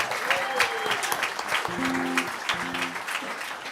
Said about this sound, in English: So please give a nice big round of applause to Jacob Shipley.